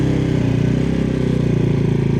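A Venom X22R Max Chinese motorcycle engine drones steadily and loudly while riding, a close, continuous low rumble with a fast, even pulse throughout.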